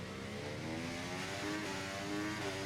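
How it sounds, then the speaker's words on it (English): A helicopter's rotor drones steadily through a racing-simulator practice session at Spa-Francorchamps, a continuous layered hum with slowly shifting pitch that stays at an even level throughout. "Like I hear the helicopter blades."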